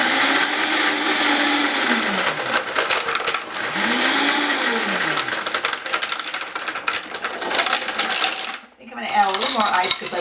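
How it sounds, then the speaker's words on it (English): A blender crushes ice for a thick slush-style mocktail, a loud, steady grinding roar with two rising-and-falling motor pitch swoops, cutting out near the end before a brief restart. "having to turn this blender on while you're here"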